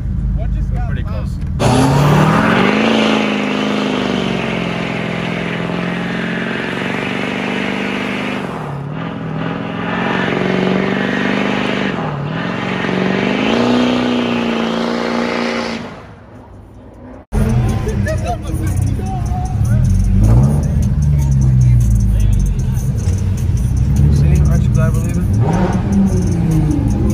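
JDM street racing cars roll into a Chicago meet, their engines droning and revving in rising and falling sweeps. The sound cuts out briefly, then returns with more revving and the babble of a crowd talking nearby.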